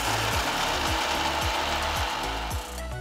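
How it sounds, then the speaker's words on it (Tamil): A mixer grinder grinds roasted gram and almonds into powder. It makes a loud, steady whirring roar with a rhythmic low clatter, alone for about three seconds before easing slightly at the end. "இது கூட பாதாமையும் சேர்த்து நல்ல ஸ்மூத்தான பவுடரை அரைச்சி எடுத்துக்கலாம்."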